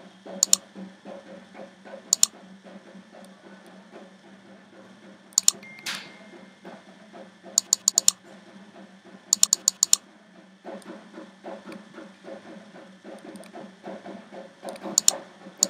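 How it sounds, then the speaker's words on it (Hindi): Close computer keyboard typing for an email address, a run of soft key taps with scattered louder clicks in small bursts and a brief pause midway, no talking. "तो मैं अपनी ईमेल आईडी एंटर कर देता हूँ।"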